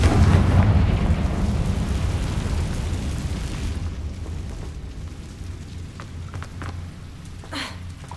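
Confringo blasting spell in Hogwarts Legacy: a loud, deep booming burst that rumbles and fades over several seconds, followed by a few faint sharp clicks.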